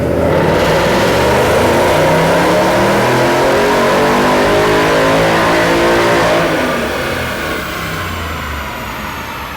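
A 2015 Mustang GT with a Roush Phase 1 supercharger kit revs hard on a dyno, a loud sustained engine roar climbing steadily in pitch for several seconds, then easing off toward the end.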